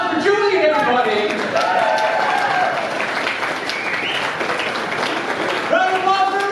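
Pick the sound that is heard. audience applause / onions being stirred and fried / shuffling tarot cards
audience applause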